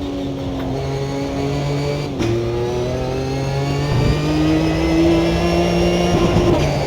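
The engine of a Jannetta car drives along, its tone humming steadily and rising through the revs before a brief dip at a gear change, then climbing again, loud and close with no voices.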